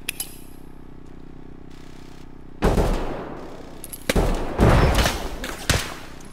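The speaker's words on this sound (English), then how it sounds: "Just impact grenade." Impact grenade explosions in Escape from Tarkov, a quiet lead-in followed by several loud, close blasts and clattering debris in the second half.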